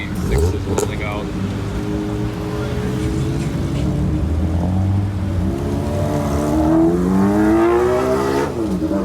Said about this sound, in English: More 86s rolling out.